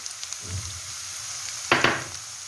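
Gentle sizzling of cumin seeds frying in oil with sautéed onions for egg masala, soft stirring, then a sudden louder burst of crackling sizzle as the seeds hit the pan.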